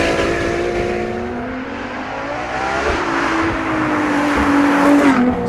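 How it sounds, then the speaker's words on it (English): Ferrari LaFerrari hybrid supercar sliding around the Fiorano test circuit, its loud engine howling and revving steadily with tyre squeal as it drifts close by. "So I spent all morning in the LaFerrari on Fiorano circuit"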